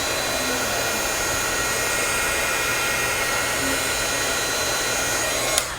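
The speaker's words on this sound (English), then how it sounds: "I can go back with the heat gun again and it will puff up even more." A heat gun blows hot air onto Nuvo expanding mousse, giving a continuous, even hiss and whirr at close range that holds steady throughout, with a small click right at the end.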